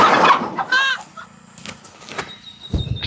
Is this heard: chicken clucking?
yes